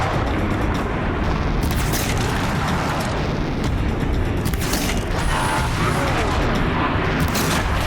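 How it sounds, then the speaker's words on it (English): Explosions and heavy booms from the Horizon Zero Dawn Frozen Wilds game during a fight with an armored fire claw machine, loud and dense with several bursts over a rumbling background. "Either that or at least break him open. Cause an explosion."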